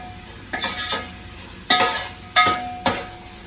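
Onions fried in a pan until golden, with four separate bursts of stirring scrapes over a light sizzle, close and fairly loud.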